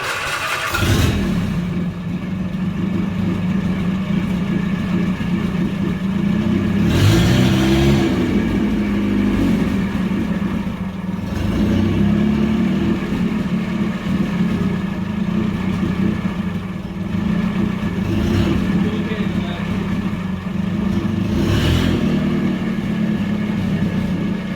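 A Bedford CA van engine cranks on the starter and catches, then runs loud and steady with a low rumbling idle, rising briefly in a few revs before settling again, with no voices over it.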